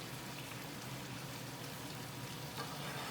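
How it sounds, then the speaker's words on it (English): Steady broadband sizzling of chicken stock hitting a hot pan while making a sauce for fish, continuous and close, with no voices. "you let it sizzle"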